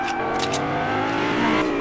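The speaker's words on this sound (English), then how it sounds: "I hear a car." A car engine revs in Fortnite, a steady whirring drone that swells slightly, moderately loud and heard alone without talk.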